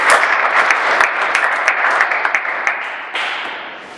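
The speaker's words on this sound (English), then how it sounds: "Please have a big round of applause." Audience applause fills a school presentation by a Class IX group, a dense steady wash of many hands clapping that holds throughout and tapers slightly toward the end.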